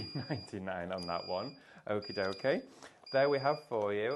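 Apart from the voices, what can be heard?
alarm beeping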